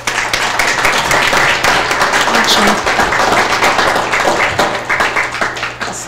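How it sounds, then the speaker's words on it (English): An audience at a town hall rally gives a loud round of applause, a thick burst of clapping that gradually thins out near the end. "Give them a round of applause."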